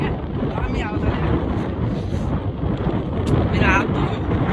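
Strong wind blows outdoors and rumbles against the microphone in a constant, loud roar. A voice is heard at times under it.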